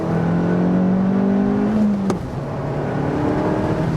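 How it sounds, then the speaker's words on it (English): A 2025-era facelifted Abarth 595C Turismo convertible with a 165 hp 1.4 engine accelerating hard from 70 to 100 km/h, heard from inside: a steady rising engine drone, then a quick gear shift and the pull resuming. "One more acceleration. Let's do some 70 to 100."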